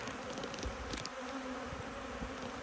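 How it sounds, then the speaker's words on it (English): An agitated swarm of honey bees buzzes close by in a dense, continuous drone, with individual bees whining past, and no one speaking. "I got million bees in my hand."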